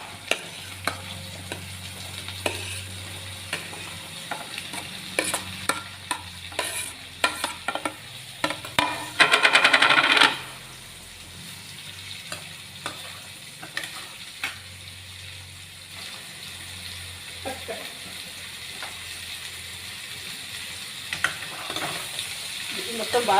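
Bottle gourd pieces and turmeric are stirred in a pan with repeated close scrapes and clacks of a spoon over a low sizzle, and a short louder burst of hissing partway through.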